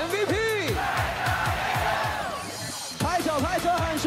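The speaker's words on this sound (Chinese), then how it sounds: "全场家人喊出他的名字" A baseball stadium crowd at a Rakuten versus Fubon game chants the MVP's name in loud rhythmic unison, led by an amplified cheer voice, with repeated shouted calls and a brief pause before chanting resumes.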